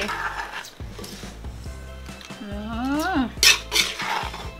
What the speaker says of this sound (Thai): นี่ค่ะเรามาตักใส่จานกันเลย